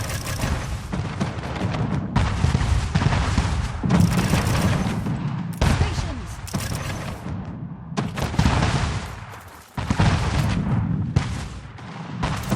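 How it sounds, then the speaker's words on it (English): A ship is destroyed in an Anno 1800 naval battle amid repeated heavy cannon booms and crashing blasts in bursts, loud and sustained with brief gaps. "Ship was destroyed."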